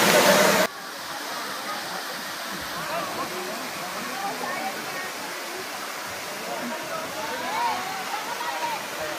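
A waterfall in Bolinao, Pangasinan, a steady rushing roar that continues evenly throughout after a brief louder burst of noise at the start.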